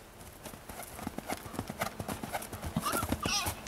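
A horse canters in a round pen on a hot day, its hooves thudding in a quick, rhythmic three-beat pattern, close and clear, with a short whinny near the end.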